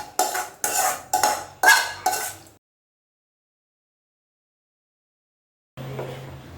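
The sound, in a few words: adding fried tempering to peanut chutney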